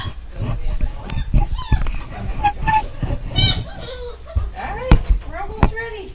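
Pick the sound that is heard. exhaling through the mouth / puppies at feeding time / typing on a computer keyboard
puppies at feeding time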